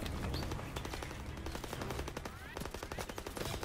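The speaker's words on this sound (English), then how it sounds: "Daniels, get on the half track MG." Half-track mounted machine gun in Call of Duty WWII firing sustained rapid bursts, loud and close, with dense overlapping gunfire and a brief lull midway.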